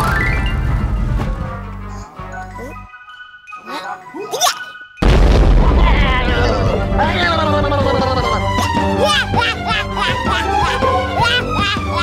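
Firecracker going off in an Aladdin film scene: a sudden loud crashing bang halfway through breaks into sustained clattering commotion after quieter sounds and voices.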